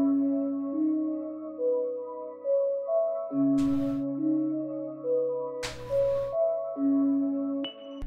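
Dark drill-style bell sample played half-time with EQ, reverb, delay and a Finisher Micro ambience layer, sounding as a slow melodic bell line with sustained tones and two brief noisy bursts, alone and fairly quiet.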